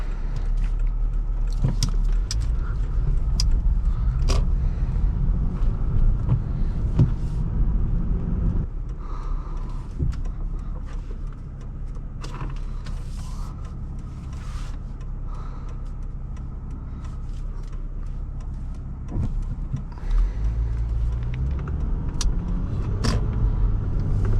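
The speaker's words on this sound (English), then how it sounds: "Oh, this car sounds so good." A 2012 Lexus IS350 F-Sport engine drones and rumbles steadily while driving, with road noise throughout and scattered clicks and rattles from inside the cabin.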